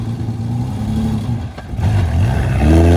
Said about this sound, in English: she's already taking off and driving around, shifting into second